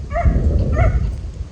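Dogs at play on a farm give two short, close barks over a rumbling outdoor background, with low whimpering noise between them.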